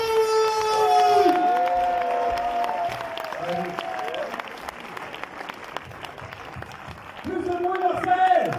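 A cinema audience at a film premiere applauds and cheers loudly for the director, continuous clapping with shouts and whoops, while a voice speaks over the crowd.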